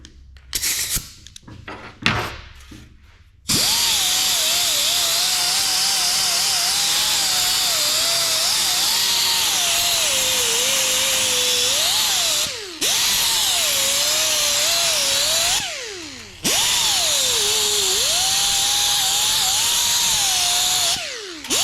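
A power sander works on a project piece, a loud continuous whine whose pitch wavers under changing pressure, broken by brief stops and restarts, after a few knocks and handling sounds at the start.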